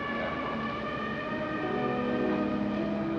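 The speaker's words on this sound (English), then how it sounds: "No music, no pretty romantic music, but sirens and boat horns and foghorns and nasty, awful stuff." A city siren from the soundtrack of the 1954 film Rear Window sustains a steady, even tone throughout, blended with a dense background of urban noise, with no voices.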